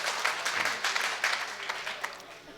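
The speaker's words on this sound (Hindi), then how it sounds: "एक बार जोरदार तालियां इस बच्चे के लिए" A mushaira audience claps loudly for a young poet, a brief burst of many hands clapping in a crowded hall.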